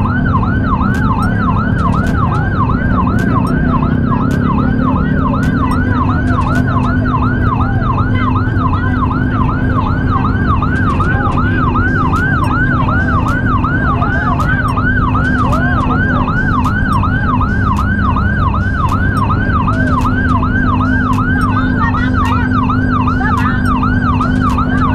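An ambulance siren wails continuously with a steady, rapid up-and-down warble, loud and close on an Indonesian road where a motorist is blocking its way. A low traffic rumble runs beneath it and no one speaks.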